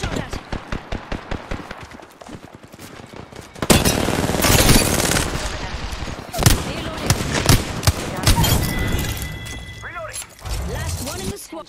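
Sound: gunfire in the video game Apex Legends

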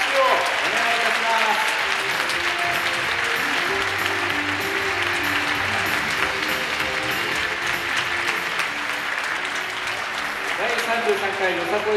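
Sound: audience applause for ten teams at festival

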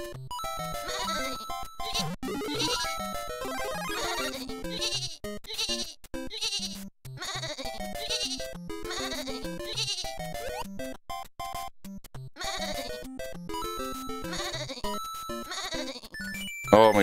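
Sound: sheep bleating in a video game

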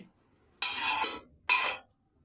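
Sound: pouring boiled bottle gourd greens onto a metal plate

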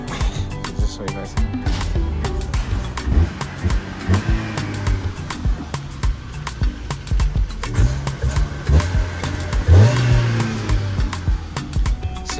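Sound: Opel bakkie engine revving

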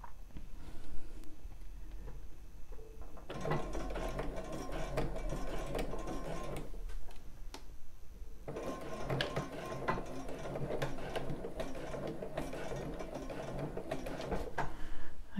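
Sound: sewing machine stitching a bar tack backwards and forwards

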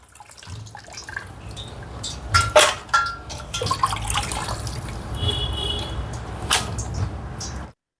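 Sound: draining water from sliced potatoes in colander

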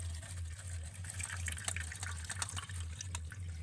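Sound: coconut milk straining through a sieve

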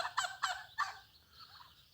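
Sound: turkey gobbling on a road

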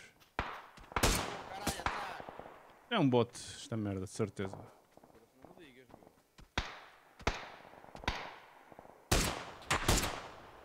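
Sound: gunshots in a video game

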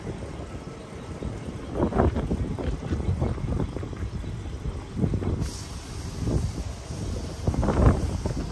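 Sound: wind blowing on windy Oklahoma afternoon

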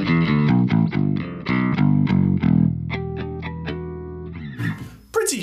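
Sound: clean bass guitar through Engl amp

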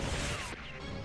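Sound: firework attack in Metal Slug video game

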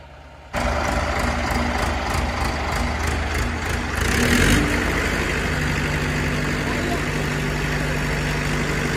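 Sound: tractor engine idling

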